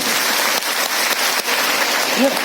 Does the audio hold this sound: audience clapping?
yes